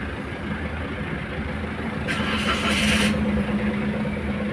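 A Toyota Wigo, just scanned after its check engine light came on, idles with a steady low engine rumble and a brief whirring burst partway through, fairly close and alone.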